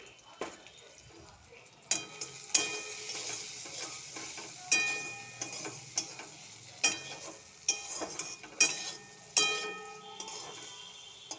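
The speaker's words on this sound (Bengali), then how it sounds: "এবারে ভাজা হোক, আর একটু ভাজলেই হয়ে যাবে" Home-grown kitchen-garden vegetables with salt and a green chilli fry in a pan, a steady sizzle broken by repeated scraping stirs at a regular pace, close and fairly loud throughout.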